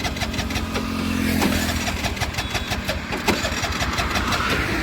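A vehicle with water in its petrol tank is cranked repeatedly but fails to catch, giving a sputtering, rhythmic starter chatter that keeps going without settling into an idle, fairly close and steady throughout.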